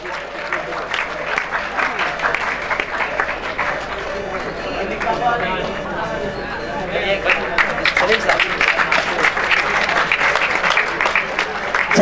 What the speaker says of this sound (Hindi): जोरदार तालियां आरिफ साहब के लिए